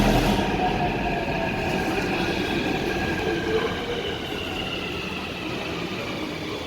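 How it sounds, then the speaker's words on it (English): A Hyderabad metro train pulls in and runs: a loud continuous rumble of wheels and carriages with a faint high squeal. The sound eases slightly toward the end, and no one speaks. "A few minutes later, the metro arrived"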